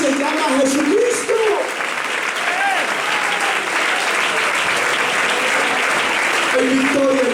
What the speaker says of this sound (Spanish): Denle un aplauso fuerte al que vive en luz, al que vive en inmortalidad, en luz inaccesible.